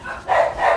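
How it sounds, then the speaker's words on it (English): Dogs bark in two short, close, fairly loud barks in quick succession, with no talking. "he got the dogs barking"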